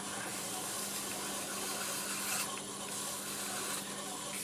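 Steady, dense rubbing hiss of fine-grit sandpaper against a lathe-turned wood piece that is likely still spinning, continuous and close with no voices.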